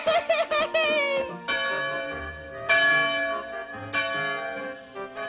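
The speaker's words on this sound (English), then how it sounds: "When the lunch bell rang, Pinocchio" A school lunch bell rings in several bright, resonant strikes, each clang ringing out and decaying before the next, loud and close, with excited children's voices chattering briefly at the start.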